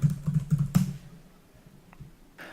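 A short burst of keystrokes on a computer keyboard, several quick close clicks in the first second, then quiet with a couple of faint taps.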